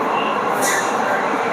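Metro train pulling into a station platform in Mumbai, a steady rumbling roar with a brief hiss midway, heard up close and continuous throughout.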